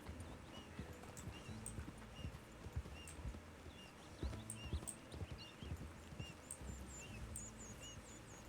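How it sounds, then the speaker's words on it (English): Horse hooves clip-clop past in the RedM Western role-play game, a steady trotting rhythm that rises and falls over several seconds, set against ambient birdsong and outdoor background noise. "Looks kind of like the same horse that just went by."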